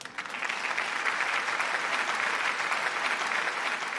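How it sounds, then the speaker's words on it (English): Warm, sustained applause from an audience at a Rhode Island hockey hall of fame induction event honoring an all-state girls' team, a steady wash of many hands clapping at moderate distance. "Final round of applause for our 2025 Projo Girls All-State First Team"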